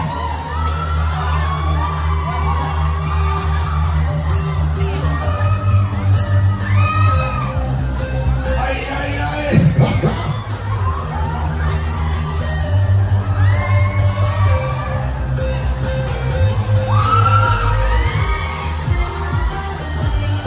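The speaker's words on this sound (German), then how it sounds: "Mensch, wer schreit denn also?" Riders on a Musik Express fairground ride at a Bielefeld spring fair shriek and whoop over loud thumping ride music, with an operator's voice and a bang amid continuous crowd noise.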